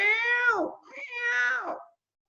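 A human voice imitates a cat with two drawn-out, falling meows, each lasting under a second, close and clear with nothing behind them.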